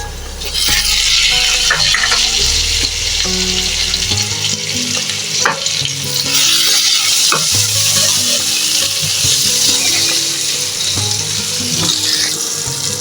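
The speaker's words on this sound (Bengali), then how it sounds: "আলুটা তেলের মধ্যে হালকা ভাজা ভাজা হয়ে গেছে আমি এবার দিয়ে দেবো টমেটোর কুচি" Potatoes lightly fried in oil being stirred with chopped tomato added, a strong continuous sizzle with scraping spoon strokes in a pan, close and loud, steady for the whole stretch with no talking.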